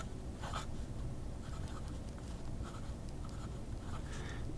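Faint scratchy strokes of a Jinhao fountain pen with a medium nib ground into a stub, moving across paper in short bursts over a steady low background hum, with no talking.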